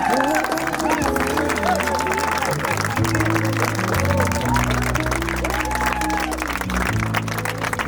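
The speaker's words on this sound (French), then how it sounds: "Vous êtes bien silencieux, vous avez le droit d'applaudir." Wedding guests in Paris clap under loud music at a Congolese and Ivorian wedding reception, with a steady crowd patter running through the whole stretch beneath the dominant song.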